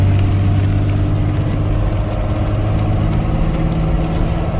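Car engine pulling in second gear, a loud, steady, close droning hum with constant low vibration and no break.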